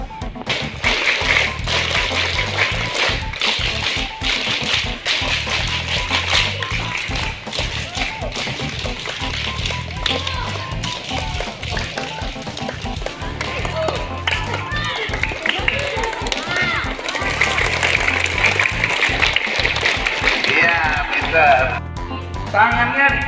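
A primary-school scout troop practising rhythmic group hand-clapping routines, sharp unison claps in patterned bursts with pauses between, close and loud, with a leader's voice and children's chatter heard between the sets.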